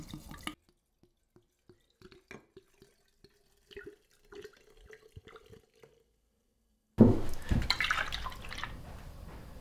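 Vinegar poured into a glass kilner jar over wire wool, a few light drips and glassy clinks in near silence, then a louder gurgling pour near the end.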